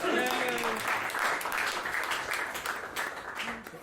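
A conference crowd claps for a speaker's bold opinion, a dense, even patter of applause that slowly fades, with a voice speaking over the start.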